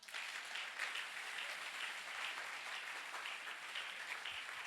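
A church congregation applauds the Lord in sustained, steady clapping that fills the room at an even level throughout, with no voices standing out.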